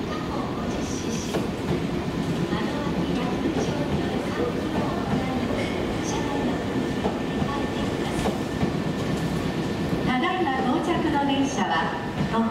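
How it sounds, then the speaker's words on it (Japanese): A limited express train rumbles steadily with rail clatter and a faint squeal as it pulls into Sakaihigashi Station, while station announcements and crowd noise carry over the top. "The train now arriving is the Rinkan Limited Express bound for"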